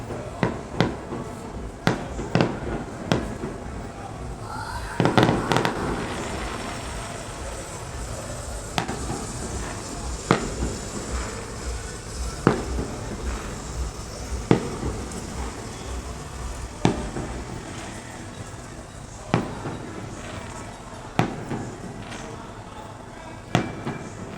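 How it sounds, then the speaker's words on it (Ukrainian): Distant fireworks pop and crackle in irregular bursts across a noisy outdoor background, some bangs sharper than others, with faint voices at times. "це салют"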